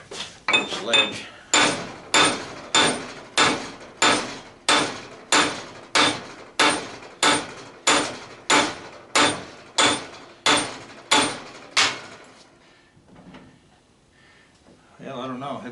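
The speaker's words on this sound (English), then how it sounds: "Just change hammers. Get the sledge." A sledgehammer pounds a large electric motor being broken up for scrap copper and iron, landing roughly seventeen heavy, ringing blows at a steady rhythm before stopping.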